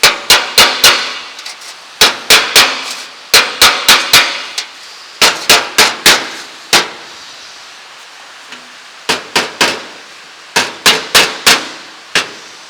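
A hammer taps a steel front fender panel on a 1934 Ford Coupe Ute during gas weld repair, ringing in close, sharp metallic clangs that come in quick bursts of three to five with brief pauses between.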